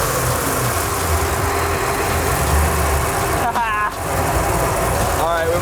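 A 6.0 LS V8 swapped into a Nissan 240SX idles and revs with cooling fans running, making a continuous close rumble with a couple of brief rising rev sweeps. Voices are heard in the background.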